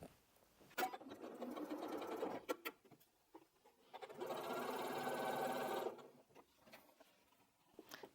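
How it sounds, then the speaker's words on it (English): A sewing machine stitches a Bargello quilt block in short rapid bursts and one longer steady run, close and fairly quiet, with pauses and small handling clicks between runs. "let's take all that to the machine and get that block finished"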